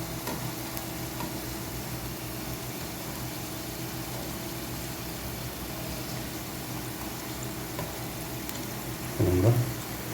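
Potato sticks fry in hot oil while being turned with a knife, a steady soft sizzle running throughout with a brief louder scrape or clatter near the end.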